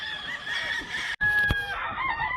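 A McRae rooster crows on a farm in Hawaii, a loud, close, drawn-out cock-a-doodle-doo with clucking around it. The crow breaks off briefly and then carries on.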